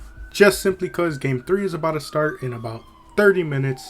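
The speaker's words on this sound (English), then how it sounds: "such as that police car or ambulance that's going off in the back" A police car or ambulance siren wails faintly in the background, a thin steady tone behind continuous close male speech.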